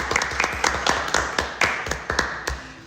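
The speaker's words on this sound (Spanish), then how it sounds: "un aplauso para Belén, nuestra presentadora" A small indoor group applauds host Belén: a handful of hands clapping at close range in irregular, scattered bursts, with no one talking.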